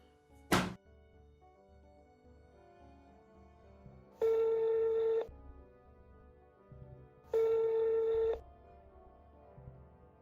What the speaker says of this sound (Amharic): ስልኩ ምን ሆኖ ነው የማያነሳው?